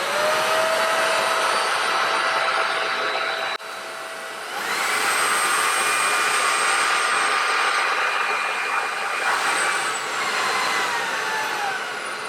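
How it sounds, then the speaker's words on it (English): A Redkey F10 vacuum cleaner runs with a loud, steady whine, dips briefly, then surges to its higher gear 5 suction with a brighter, louder tone that holds for several seconds. "The suction power will also automatically go up to gear 5 to suck up the object that is blocking."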